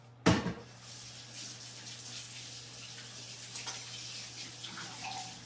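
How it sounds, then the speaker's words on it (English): Tap water runs steadily into a sink as hands are washed, after a sharp knock at the start, with a few soft splashes and clatters over the low, even flow. "So I am going to wash my hands."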